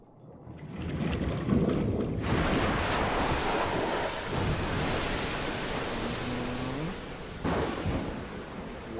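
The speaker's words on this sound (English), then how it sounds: "I like waves." Ocean waves in a video game trailer, a steady broadband wash of surf with wind noise that swells in suddenly and holds loud throughout, with a faint tonal cue near the end.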